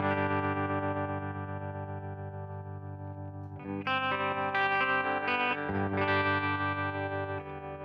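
Electric guitar chords ring through an amp modeler with a wavering, pulsing tremolo and spring reverb, steady strumming that swells louder midway; no voices.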